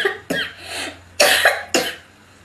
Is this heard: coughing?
yes